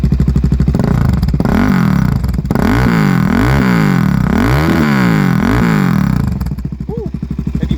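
A supermoto motorcycle engine, loud and close, catches and settles into a rough idle, then gets a series of sharp throttle blips that rise and fall before dropping back to idle.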